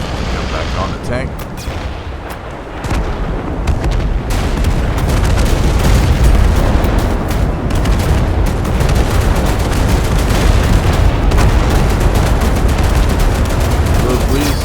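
Heavy artillery fire and explosions in the war game Total Conflict: Resistance, a loud continuous barrage of booms and crackling gunfire that swells and rolls on throughout, with voices speaking beneath the din.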